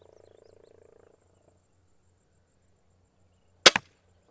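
A Cold Steel Cheap Shot projectile strikes its target with a single sharp, solid thud near the end, following a faint low mechanical hum and a stretch of near silence.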